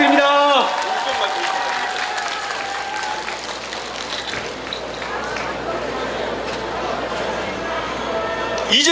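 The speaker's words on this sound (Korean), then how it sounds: "박수 부탁드립니다." Sustained crowd applause fills a political campaign rally in Busan, a dense steady wash of clapping lasting throughout, with a few voices and cheers mixed in near the start and end.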